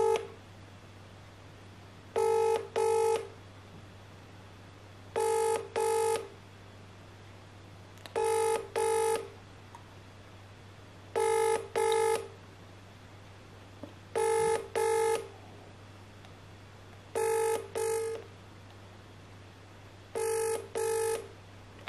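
An outgoing call ringing on an iPhone 11 Pro, eight evenly spaced double-burst rings about three seconds apart over a low steady hum, with no talking.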